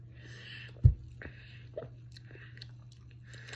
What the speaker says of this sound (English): I'm chewing on gum